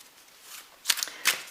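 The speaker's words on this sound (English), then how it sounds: "So I'm going to shuffle the cards, just see how they shuffle." A Fairytale Oracle card deck with gilded edges is shuffled by hand, giving two short, crisp riffling bursts close up after a quiet moment.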